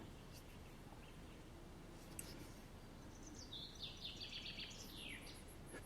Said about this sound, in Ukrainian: щебечуть чути прямо в лісі